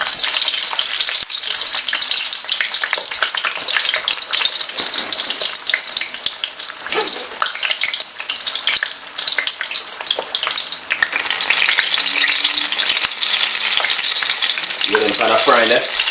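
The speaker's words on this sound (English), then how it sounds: "Get them kind of frying there." Red onion and garlic frying in a pot, a steady bright sizzle with occasional stirring scrapes and rattles, close and continuous throughout.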